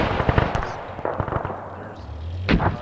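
Explosions sound in an ArmA 3 World War II battle, with sharp, loud blasts and cracks, a few in quick succession early on and another strong burst near the end, over low rumbling and scattered distant gunfire.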